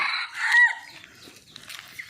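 A chicken gives a brief, high crowing call up close, followed by softer scattered clucks and faint chirps in a quiet setting.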